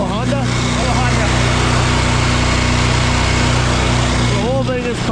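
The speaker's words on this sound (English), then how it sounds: "The whole thing is powered by the little 23 horse Honda." A small 23-horsepower Honda gas engine powering a Spider-Boom concrete placing machine runs loud and steady with a constant buzzing drone throughout, with voices speaking over it.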